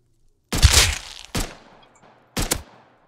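Gunfire in the survival video game Rust: three sharp shots, close and loud, each with a short decaying tail. The first is the longest and the last two are spaced about a second apart.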